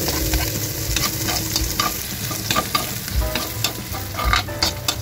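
Garlic sizzles and crackles steadily in cooking oil in a wok-style pan for chicken liver, with continuous frying hiss and occasional stirring clinks, close and alone without talk.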